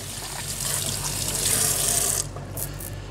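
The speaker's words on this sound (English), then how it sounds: "So we'll give them a quick rinse." Tap water rushing into plastic beer fermenter buckets as they are rinsed, a steady loud hiss and splash that eases off near the end, with no talking.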